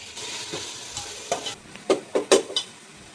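Onions and tomatoes being sautéed for chicken biryani, with a spatula scraping and stirring in a pan in several distinct strokes over a faint background sizzle.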